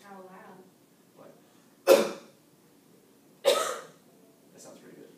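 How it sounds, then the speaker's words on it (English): Two loud, sharp coughs a second and a half apart, close by, with quiet voices before and after. "Can I hear you cough as loud as you can?"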